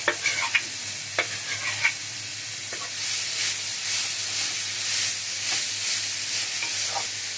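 Mashed potato and pointed gourd filling fries in a pan with a steady close sizzle, and a spoon knocks and scrapes against the pan a few times early on.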